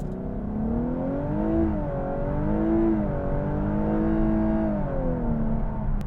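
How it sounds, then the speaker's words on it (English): A 2023 Lexus LC500h idles at a red light, then revs repeatedly with rising and falling engine tones. The engine sounds loud and close, with a steady hum under the revs. "we're first at the red light. You know what that means. Engine sound time."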